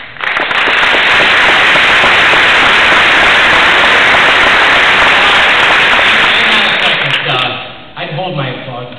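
A large crowd at a high school commencement ceremony applauds in a dense, loud, continuous roar of clapping that fades out near the end.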